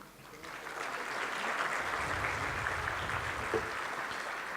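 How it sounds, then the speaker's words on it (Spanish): Audience applause welcoming a speaker at a tax law conference, a continuous even wash of clapping heard from a distance, fairly quiet and sustained through to the end. "a quien los recibimos con un caluroso aplauso."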